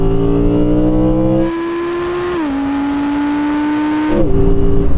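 An Audi or Lamborghini car accelerating hard, a loud, close engine roar climbing steeply in pitch, a quick gear change, another rising pull, then a second shift, with no talk over it.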